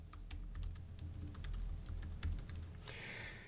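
Rapid keystrokes on a computer keyboard as an email address is typed, a steady run of close, crisp clicks with no talking.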